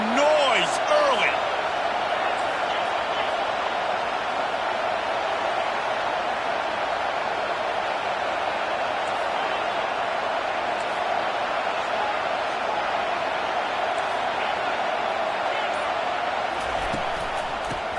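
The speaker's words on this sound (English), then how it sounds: "This crowd bringing the energy and noise early." A packed stadium crowd at a football game against the Bulldogs keeps up a loud, steady roar from start to finish, with some voice faintly heard over it.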